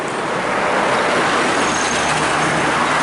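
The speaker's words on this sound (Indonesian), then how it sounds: "Sepertinya ini bus Putra Pelangi" A Putra Pelangi Perkasa bus passes on the road, a loud, steady broadband roar of engine and tires that holds close for several seconds.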